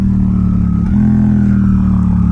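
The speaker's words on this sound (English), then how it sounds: "We'll try to go down 2 gears using the Suzuki quick shifter" A Suzuki GSX-8R motorcycle with a full exhaust droning at a steady pitch, then a quick jump in revs as its quick shifter drops down two gears.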